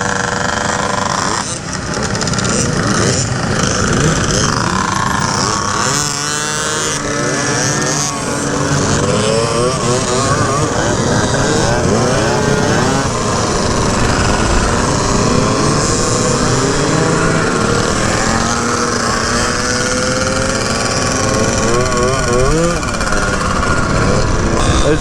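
Fast two-stroke scooters ride through a city, their engines buzzing and revving loudly and continuously, rising and falling in pitch, with riders' voices mixed in.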